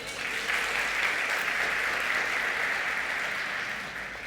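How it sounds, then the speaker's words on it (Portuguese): Church congregation applauding during a sermon, a steady, full roar of many hands clapping together, even in loudness and easing off slightly at the close. "Você pode aplaudir o Senhor?"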